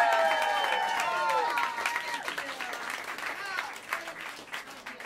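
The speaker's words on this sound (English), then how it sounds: "how about another round of applause for Virginia Mayhew?" Applause from a jazz club crowd at Smalls, clapping and cheering building under a trailing tone at first, then continuing as scattered, loosening claps while a voice speaks over it.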